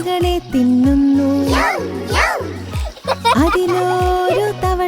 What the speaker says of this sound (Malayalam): അതിലൊരു തവളക്കുഞ്ഞൻ ചാടി മറഞ്ഞു വെള്ളത്തിൽ.